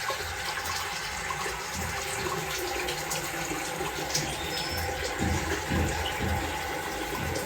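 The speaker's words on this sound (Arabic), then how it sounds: "الميه زي ما انتم شايفين بتجري" Water runs steadily down a freshly unclogged sink drain, a continuous close rushing and gurgling flow that holds at an even level throughout with no talking.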